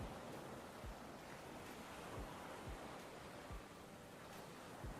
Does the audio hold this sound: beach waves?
yes